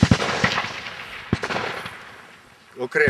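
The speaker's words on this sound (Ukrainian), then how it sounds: "Ви стріляєте тільки автоматичним вогнем." Automatic rifle fire at a military training ground: a quick burst of close, sharp shots, a lone shot and a few more cracks, then a voice speaking at the end.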